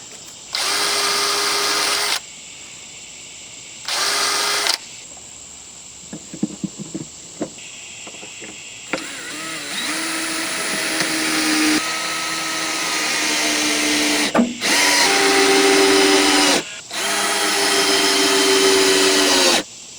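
Power drill driving 2.5 inch screws into a fascia board during a rotten fascia and soffit repair, several loud whirring bursts of one to three seconds separated by pauses and light handling clatter.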